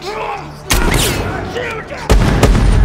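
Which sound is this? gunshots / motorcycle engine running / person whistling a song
gunshots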